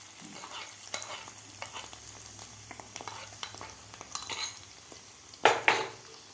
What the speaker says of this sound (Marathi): तर व्यवस्थित आपल्याला मिक्स करून घ्यायचं आहे